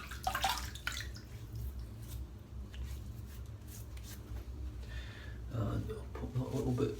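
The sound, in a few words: water splashing while wetting face for shaving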